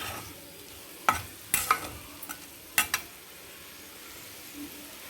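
Potato slices frying in a pan for a spicy potato fry, stirred in a few sharp scrapes and clinks that come in short clusters over a faint, low sizzle, with no voices.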